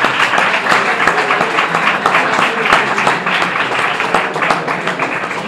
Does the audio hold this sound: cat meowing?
no